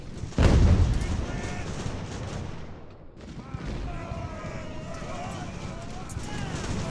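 Musket volley fire from the naval battle game Ultimate Admiral Age of Sail: a loud, crackling burst of shots near the start that quickly fades into rumbling battle noise, with someone talking over it throughout.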